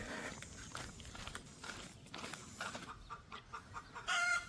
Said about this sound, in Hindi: यहाँ एक तो मुर्गे काफ़ी सारे हैं, ये देखो पेड़ पे भी बैठे हुए हैं, लगातार मुर्गे ही मुर्गे बोल रहे हैं।